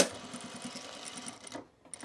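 A sewing machine stitching fabric from the bottom up during clothing repair runs with a fast, even mechanical pulse for under two seconds, then stops abruptly, close by with no voices.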